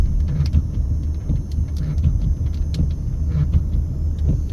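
Car cruising northbound on a hot road in East Las Vegas, a steady close cabin rumble of engine and tires with faint ticks and clicks, no voices.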